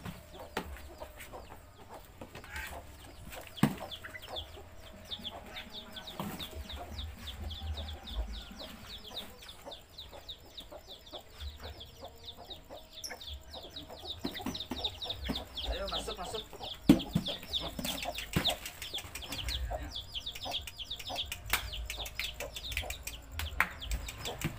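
Hen clucking agitatedly, a rapid series of sharp, repeated clucks and squawks at close range, with rustling and occasional thumps underneath and a low voice speaking intermittently.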